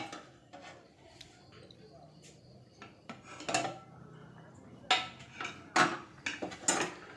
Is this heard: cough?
no